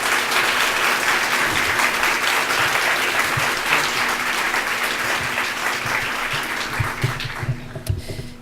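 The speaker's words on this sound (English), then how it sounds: "Please applaud all the students and teachers at this school" Dense, sustained applause from a large audience at the Adelfa Botello Callejo Elementary School dedication, honoring its students and teachers, loud and continuous before tapering into a few scattered claps near the end.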